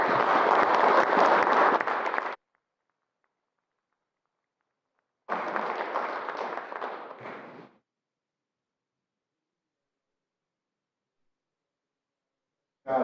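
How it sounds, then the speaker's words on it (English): Audience applause at a community event on gas leaks and grassroots air and water testing, with a senator being welcomed to the stage: two separate bursts of crowd clapping, each about two and a half seconds, split by silence, and a third starting at the very end. "So please, a round of applause for you, the audience"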